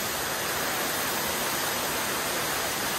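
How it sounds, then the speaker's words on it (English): A waterfall in Fundy National Park, New Brunswick, roars with a dense, steady rush of falling water, loud and close, with nothing else audible. "This is the most visited waterfall in the park"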